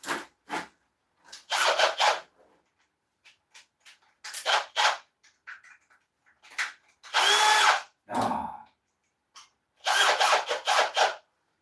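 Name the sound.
drill with 80 grit sanding disc sanding ash bowl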